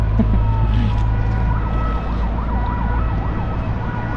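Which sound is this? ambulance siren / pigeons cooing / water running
ambulance siren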